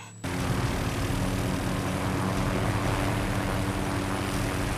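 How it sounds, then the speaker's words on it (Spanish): Dense, continuous roar of a helicopter in the Splinter Cell Blacklist video game starts abruptly and stays loud and steady, with no voices over it. "El helicóptero se va a ir a la mierda."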